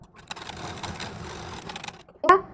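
Close sewing machine stitching on a blouse, a short run of quick mechanical rattling that ends in a brief sharper sound.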